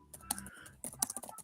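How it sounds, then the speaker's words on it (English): Rapid keyboard typing at a computer, a burst of clicky keystrokes with a short pause in the middle, close and fairly quiet. "I hear him typing"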